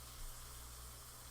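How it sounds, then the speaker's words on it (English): A vegan Reuben sandwich sizzles in a pan, a soft, steady hiss with a low hum beneath it, faint and continuous with no talking. "I hear it sizzling."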